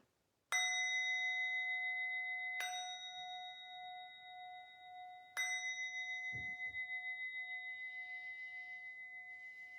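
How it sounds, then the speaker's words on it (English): A memorial bell is struck three times, each a bright metallic ding with a long ringing, slowly fading tone that overlaps the next strike, clear and close in a quiet space. "I sound the bell"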